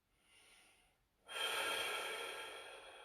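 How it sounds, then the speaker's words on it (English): Loud breathing during a static stretching routine, a soft inhale followed by a strong, sustained exhale through the nose and mouth, close and alone with no talking. "Work on your breathing for me."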